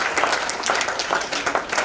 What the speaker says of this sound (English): However, we need a clap.